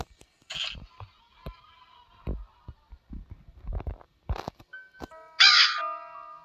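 A crow caws sharply outdoors, a few harsh isolated calls spaced between quiet thuds and scrapes, the last caw loud and close.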